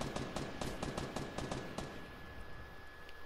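Rapid automatic gunfire in the video game Fortnite, a quick burst of evenly spaced shots at moderate distance that tapers off into quieter ambience.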